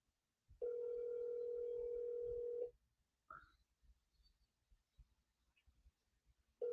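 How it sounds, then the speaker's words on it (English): A steady telephone tone sounds for about two seconds during a call back, followed by a short beep and faint clicks, then the tone begins again at the very end. No one speaks. "We call Angie back"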